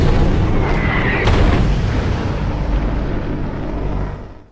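A missile strikes an F-15-era combat aircraft and it erupts into a large fireball: one loud, sustained, rumbling explosion with a brief rising whine in it, holding heavy low-end roar for several seconds before fading.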